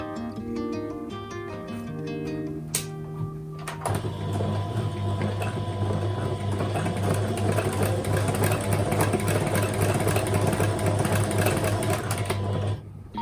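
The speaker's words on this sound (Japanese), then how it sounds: "ほつれないようにこうね、ジグザグ縫いかけていきます。" Sewing machine running a zigzag stitch along the side seams of a dress, a steady loud mechanical whir that starts after a few seconds of softer sound and runs continuously to the end.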